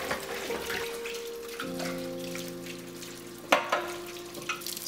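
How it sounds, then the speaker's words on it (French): Kitchen dishes and a saucepan are washed under a running tap, with a continuous hiss of flowing water, close by, broken by a sharp clank of cookware partway through. "Je fais la vaisselle, je lave la casserole."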